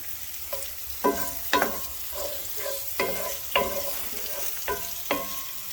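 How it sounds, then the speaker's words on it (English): Food cooking in a pan over a raised flame gives a soft sizzle. About eight sharp, clattering stir strokes of a utensil against the pan come at uneven intervals, close and fairly loud, with no talking. "Just constantly stir it."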